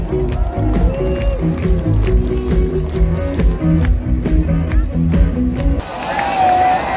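A large outdoor crowd at the Jakarta MRT inauguration claps and cheers, loud rhythmic clapping over music and chatter, then shifts abruptly to a different noisy mix with whoops near the end.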